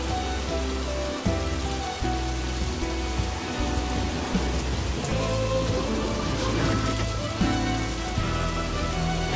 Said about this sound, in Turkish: Yağmurun sesini duyayım.